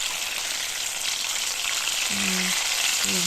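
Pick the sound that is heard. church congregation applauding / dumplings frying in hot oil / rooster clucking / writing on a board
dumplings frying in hot oil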